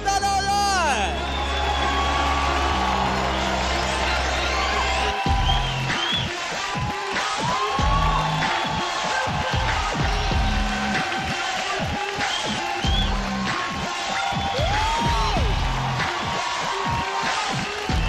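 An audience at the TV dance competition Dance India Dance applauds and cheers with loud whoops and shouts over music, a continuous energetic din with voices mixed in.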